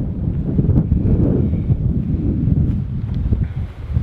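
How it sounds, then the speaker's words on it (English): Steady wind buffeting the microphone on an open golf course, a low continuous rumble with gusty swells and faint rustling, no talk. "So wind's kind of, it feels like it's down off the right."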